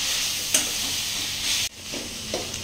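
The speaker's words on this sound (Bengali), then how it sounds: "এটা কিছুক্ষণ এখন ভাজা হবে।" Food softening in a pan with spices makes a soft, continuous hiss of frying, broken by a few scraping stirs and a sudden drop in level near the middle as the pan is moved or stirred; no speech.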